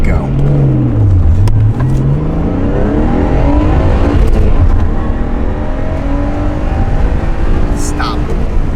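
A Nissan 180SX with an SR20 engine launching hard, the engine note climbing steeply through the revs with a gear change, loud and close with wind and road noise, and voices talking over it.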